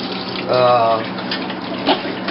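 Cold tap water runs steadily into a sink while lamb offal is rinsed, a close, continuous hiss and splatter with a brief swell of pouring and a soft splash near the end; a voice speaks over it.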